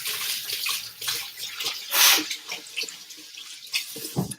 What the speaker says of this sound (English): Watch me wash my hands.